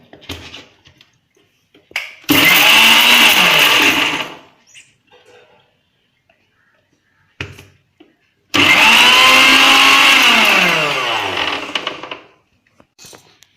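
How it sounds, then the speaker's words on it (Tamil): A small kitchen mixer grinder spins hair remedy ingredients in two loud bursts of whirring of about two and four seconds. Each burst starts abruptly and the pitch drops as it winds down, with quiet handling clicks in between. "அதனால் நான் சின்ன மிக்சியில் மாற்றிக்கிட்டேன் லைட்டாக சுத்த விட்டு"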